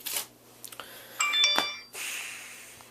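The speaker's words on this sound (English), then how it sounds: "Again, another text message." A phone plays a short text message notification tone, a brief bright chime of a few high notes in the middle of quiet room noise and soft rustling, close and clear.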